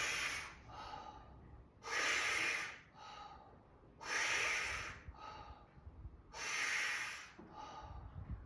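Deep breathing during a squat fascia exercise: three long, loud breaths with breathy hiss roughly every two seconds, each followed by a softer shorter one, repeating in a slow, even rhythm up close with no talk.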